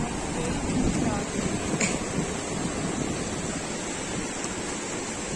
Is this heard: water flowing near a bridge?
yes